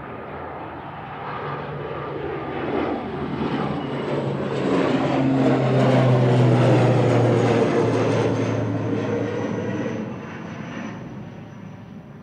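An ATR 72-600 turboprop bound for Belfast roars down the runway at Manchester Airport, its propeller drone swelling to a loud peak as it passes and then slowly fading, with no voices.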